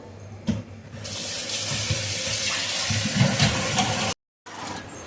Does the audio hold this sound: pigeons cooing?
no